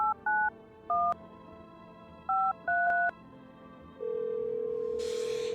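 Telephone keypad tones beep in a video game, several short dual-tone presses in an uneven rhythm, followed by a steady held tone and a brief hiss at the end.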